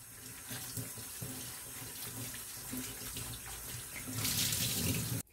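A cleaning cloth is rinsed under a running kitchen tap, water splashing steadily into a sink, growing louder and more spattery near the end before the flow abruptly stops.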